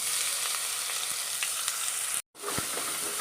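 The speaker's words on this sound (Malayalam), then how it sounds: "കുറച്ച് കടുക് ഇട്ട് കൊടുക്കാം. വറ്റൽമുളക് ഇട്ട് കൊടുക്കാം. കറിവേപ്പില ഇട്ട് കൊടുക്കാം." Mustard seeds, dried red chillies and curry leaves sizzle and crackle steadily in hot oil for a South Indian rasam tempering, a loud continuous frying hiss with small pops and one brief dropout.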